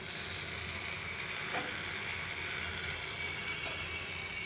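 Millet and raw banana bajji batter frying in hot oil, a steady, close, dense sizzle that holds evenly throughout without speech.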